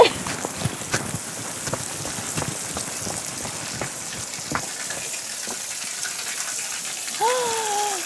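Water runs and splashes in a garden grotto, with a steady gushing wash and scattered drips and splats, and a faint voice joins near the end.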